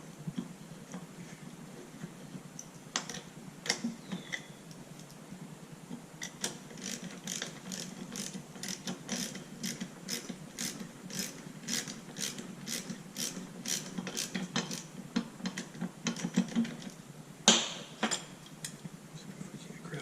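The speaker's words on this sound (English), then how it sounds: "See if we can use a socket just to get most of the way." A socket wrench clicks in quick ratcheting bursts while working a fastener on a vintage National walking sprinkler, with fast even ticks close up and quiet pauses between strokes.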